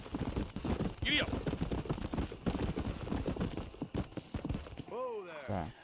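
A horse's hooves clip-clop rapidly in a steady galloping rhythm in Red Dead Redemption, with a voice speaking over it and a short whinny near the end.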